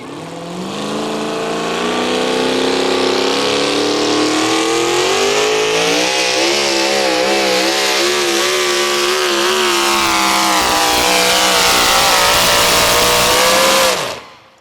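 An 8500 mod turbo pulling tractor at a truck and tractor pull roars loud and close, its engine revving and climbing in pitch in one long, sustained pull before cutting off abruptly.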